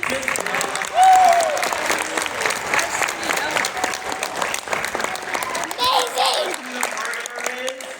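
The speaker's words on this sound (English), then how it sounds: "Can we get a round of applause for Warwick" An audience claps for Warwick at an evening gathering of fans, a sustained round of applause with a brief whoop near the start and voices talking over it.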